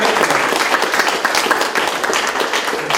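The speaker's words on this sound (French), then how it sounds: "On l'applaudit." Audience at a French community centre event applauding loudly and densely, a close, continuous burst of clapping that holds steady for the whole stretch.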